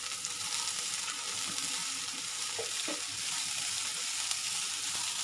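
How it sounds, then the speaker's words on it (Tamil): Green beans sautéing in a hot pan for beans usili, a steady close sizzle with a few soft stirring knocks, no talking. "இப்போ நம்ம வந்து இதில் பீன்ஸ் போட்டுக்கலாம். பீன்ஸ் கொஞ்சம் நல்லா வதங்கட்டும்."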